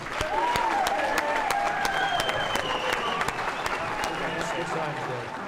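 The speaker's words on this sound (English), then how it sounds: "let's give a wonderful round of applause to the returning 1963 Dalhart Wolves" A luncheon crowd in Dalhart, Texas applauds the returning 1963 Dalhart Wolves football team, a moderate wash of clapping under music or voices with tonal lines running throughout.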